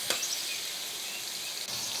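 Onion sizzling and frying in a pan for mashed taro-stem fry, a steady close hiss throughout with a brief clatter near the start and another near the end.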